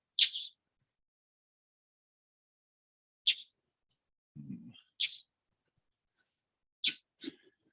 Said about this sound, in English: just coming close and chirping at me.